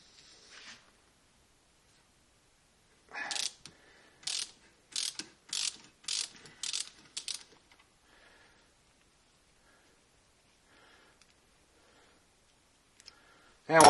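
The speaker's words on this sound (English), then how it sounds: "So let's take the tap out of there." A thread tap is backed out of a nut from a 1975 Harley XL motorcycle, a close run of about eight quick ratcheting clicks in short bursts, followed by faint handling sounds.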